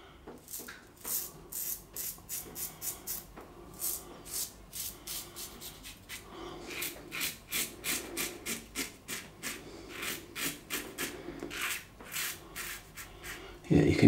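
A Merkur 37G safety razor shaves against the grain on a third pass through a lather of Cailleach and Proraso Green soap. It makes a series of close, crisp scraping strokes in short, rhythmic bursts.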